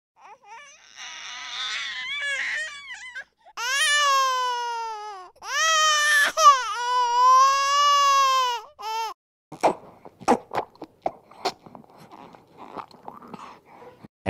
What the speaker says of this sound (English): I can't take the noise of babies crying